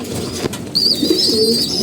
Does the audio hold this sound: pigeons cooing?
yes